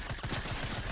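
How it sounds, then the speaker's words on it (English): A brief rapid burst of SMG fire in Fortnite, a dense stream of fast shots under a second long, loud and close. "SMG."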